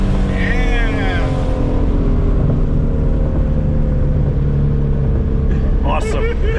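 A 2019 Shelby GT350 pulls hard in second gear, its engine droning loud and steady from inside the cabin, while people whoop and talk over it.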